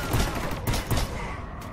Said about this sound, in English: It's semi-automatic shotgun.